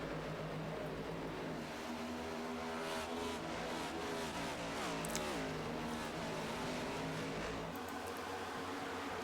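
Race cars circulate on track during an iRLC Southern 250 broadcast, with several engines droning and revving together, pitch rising and falling as cars accelerate and pass, fairly distant and continuous.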